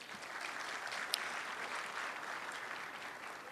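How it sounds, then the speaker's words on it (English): Brief, faint applause from a small gathering at an art wall unveiling, a steady patter of clapping heard from a distance. "Let's just give them a quick round of applause, please"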